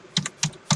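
Three distinct keystrokes on a computer keyboard while Python code for face detection is typed, close and crisp, evenly spaced with short pauses between presses.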